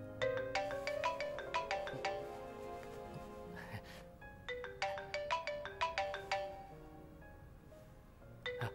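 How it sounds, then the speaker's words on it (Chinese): A phone ringtone plays a bright melodic tune in repeated bursts, fairly faint and indoors, pausing briefly between phrases, with faint breathing or voice sounds in the gaps. "不好意思啊，接个电话。"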